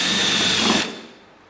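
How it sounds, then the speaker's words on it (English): A drill boring into wood with a 1-inch Forstner bit in a woodturning workshop, a loud steady whir that cuts off abruptly partway through, leaving a quiet fading tail. "So you take a 1-inch Forster bit, and then your little mark you made right there, and I always drill it down to about halfway."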